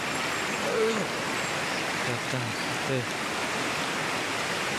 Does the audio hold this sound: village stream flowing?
yes